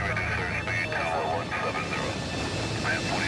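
Colgan Air flight 3407 taking off at night from Newark, New Jersey, a steady, loud engine roar with a high whine running through it. A voice speaks over the engine throughout.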